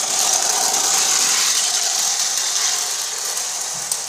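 A wind-up tin plate Melbourne W-class tram toy runs on its spring, giving a steady, faint high-pitched whirring and buzzing that slowly eases over a few seconds, close by and alone.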